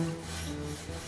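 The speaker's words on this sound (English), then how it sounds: "Any extra paint gets filed off when I clean up the head badge" A hand file rasps excess paint off a bicycle frame near the head tube badge on a DIY mountain bike frame, a steady close scraping that continues without a break.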